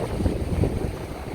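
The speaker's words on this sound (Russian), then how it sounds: "Ветер поднялся, сильнее стал." Wind blows across the open sea during a boat trip, a steady rough rumble that buffets the microphone with low, uneven gusts and no voices.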